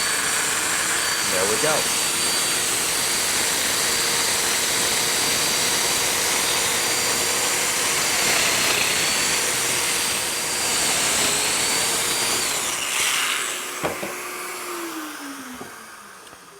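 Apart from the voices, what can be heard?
Festool Domino joiner cutting mortises in panel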